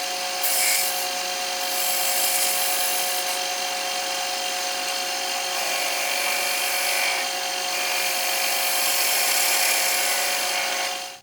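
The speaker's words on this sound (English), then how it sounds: "I'll sand it for what it is for this one." A wooden trowel handle, made to replace a broken plastic one, is sanded in a steady, continuous abrasive rasp close by for about eleven seconds with no talk.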